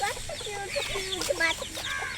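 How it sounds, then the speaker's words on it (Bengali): Chickens, among them a white hen, cluck close by in a steady, busy stream of overlapping calls, with no talking. "ওই দেখেন সাদা মুরগিটা কি করে তার বাইরে বার হয়"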